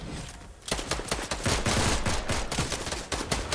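Rapid gunfire in a Fortnite match, dense repeated shots in quick bursts, loud and continuous after a brief quieter opening.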